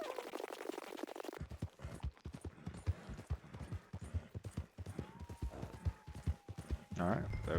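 Horse hooves clip-clop steadily as a rider heads back to the branch in a cattle ranching video game, with a voice talking over them.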